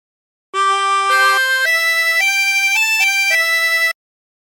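A 24-hole tremolo harmonica plays a short phrase of Be Thou My Vision, about seven sustained, wavering reedy notes stepping up and down, clear and close with no talking, ending abruptly.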